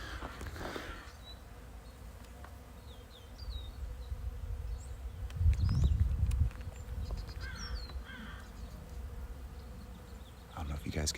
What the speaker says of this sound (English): Listen to those bees.